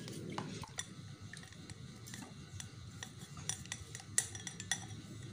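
A dirty drinking glass is washed and scrubbed by hand, giving soft wet rubbing with scattered light clinks and taps of glass, close and fairly quiet throughout.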